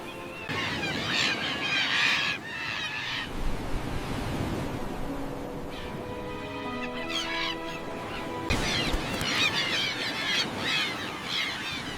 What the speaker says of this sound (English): Along this quiet stretch of shoreline, the lone seagull begins its daily patrol.